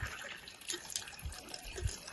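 Water from a newly installed village hand pump splashes and trickles in faint, irregular spurts, quiet and close, with no voices heard.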